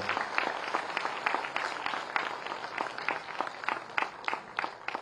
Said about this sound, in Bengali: সবাই আরো একবার তার জন্য জোরে করতালি আশা করব